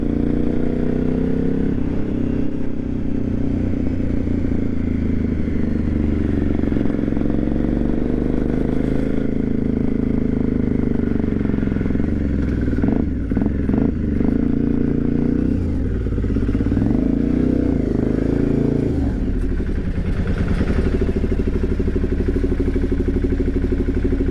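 An Aprilia Shiver 750 motorcycle engine runs loud and close, rising and falling in pitch as it revs, with some mechanical clatter throughout.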